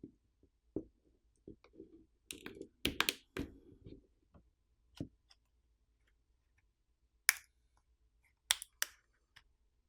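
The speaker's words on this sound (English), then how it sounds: "a plastic pry tool needs to be placed in between the back housing and the border of the screen and ran along the" A plastic pry tool works around the back housing of a Tecno Pova 5 phone, giving sharp, scattered plastic clicks and snaps as the catches pop loose, close and alone in a quiet room.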